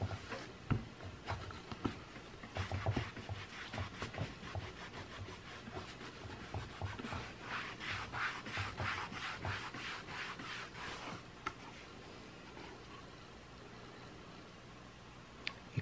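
An antique being hand-rubbed to lift dirt while leaving its patina, with wax buildup on the surface; steady scrubbing strokes continue close up for most of the stretch, easing off toward the end.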